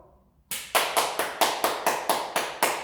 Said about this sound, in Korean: 여러분 스스로를 위한 박수였어요